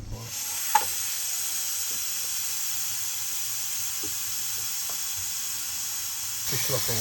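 A steady, broad hiss of steam jetting out continuously, with occasional faint clicks and knocks beneath it, and a voice briefly heard at the end.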